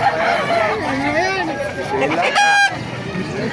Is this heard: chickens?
yes